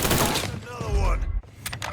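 Rapid gunfire in the video game Mafia III on PS5, a loud burst of shots at the start followed by a thudding impact, with a voice talking over part of it.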